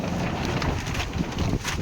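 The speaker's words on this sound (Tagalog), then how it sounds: "Grabe po yung hangin." Loud, continuous wind buffets the microphone, a dense roaring rush with gusty fluctuations throughout.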